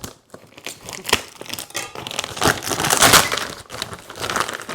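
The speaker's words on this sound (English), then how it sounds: "So it's a very well-wrapped plastic bag." A tightly wrapped plastic bag around a new pair of Australian-made Wootten boots being pulled open, giving continuous close crinkling and crackling with sharp tearing bursts and no talk.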